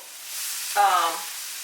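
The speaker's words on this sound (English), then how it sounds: "Because you're basically just kind of frying the corn." A short burst of sizzling as drained corn hits a hot skillet, loud for about half a second, then settling into a soft steady hiss as it fries.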